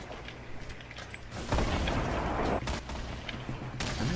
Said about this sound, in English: They're launching grenades at you.